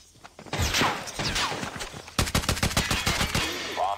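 Gunfire in the mobile shooter Call of Duty Mobile, loud automatic bursts with rapid, evenly spaced shots, the later burst sharper and more clipped.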